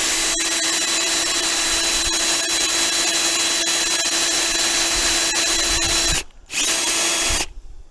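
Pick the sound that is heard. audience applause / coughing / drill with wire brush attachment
drill with wire brush attachment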